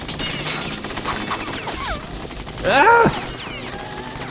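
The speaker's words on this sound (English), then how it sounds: "So many bullets." Gunfire in the video game Metal Gear Solid 2, rapid bursts with sharp impacts and crashes, a short pained voice cry partway through and game sounds around it.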